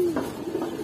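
A giribaz pigeon gives a brief, soft coo, close by and alone.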